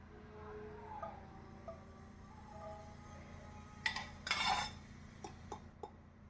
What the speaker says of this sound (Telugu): ఇప్పుడు మనం స్టవ్ పైన కడాయిని పెట్టుకొని కుకింగ్ ప్రాసెస్ స్టార్ట్ చేస్తున్నాం.